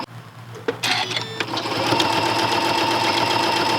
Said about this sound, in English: Last row of stitching, and I'm done.